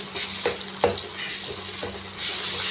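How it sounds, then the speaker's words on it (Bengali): Tomatoes are pressed and mashed in hot oil for a Bengali chara pona fish curry, giving a steady close sizzle broken by a few soft squelching presses of the spoon. "আমি টমেটোটা এরকম করে করে চেপে চেপে এটাকে পুরো ফাটিয়ে দিচ্ছি"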